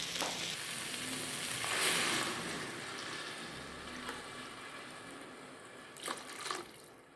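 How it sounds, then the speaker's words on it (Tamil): Water poured into a rice cooker over rice and lentils gives a steady, close liquid rush that runs throughout, with a couple of brief splashes near the end. "இப்போ நம்ம தண்ணி விட்டுட்டோம்"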